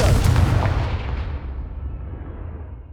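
A Confringo fire spell blast in the Hogwarts Legacy game on PS5, a loud booming explosion that starts at full force and rolls off into a long fading rumble.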